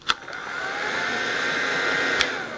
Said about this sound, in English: I do take my blow dryer to class with me.